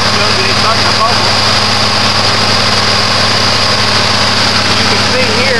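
Steady engine drone from a Gremlin fitted with a hydrogen unit, throttle propped open with a stick, running continuously at a constant high idle with a dense, unvarying hum and no breaks.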